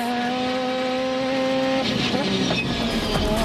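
Star Mazda race cars racing on a track, a loud whining engine note holding steady before the cars roar past in a dense burst of engine and tire noise.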